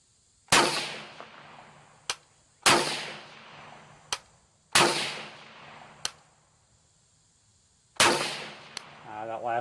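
Four sharp, loud gunshots from an FN .22 caliber rifle at an outdoor shooting range, each with a ringing decay, spaced about two seconds apart, with metallic clicks of the action between shots.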